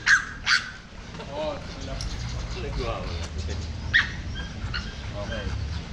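Dog at a K9 protection training get-together, giving two sharp barks at the start and another later, with whimpering in between. Outdoor crowd noise runs throughout, and people talk near the dog.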